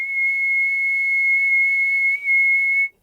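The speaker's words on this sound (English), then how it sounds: "So I'm going to try whistling." A steady, clear whistled tone, recorded into the GarageBand sampler on iOS, holds almost unchanged for close to three seconds, with one brief dip before it stops.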